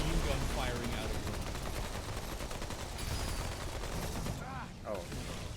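Machine gun fire in the video game Remnant 2, a dense, continuous rattle of rapid shots mixed with other game effects, running throughout.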